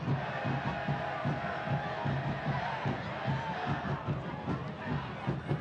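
Soccer crowd at Keyworth Stadium during a Detroit City FC match against Atlanta United II, a dense, steady roar of many voices with rhythmic chant-like pulses throughout, fairly distant and continuous.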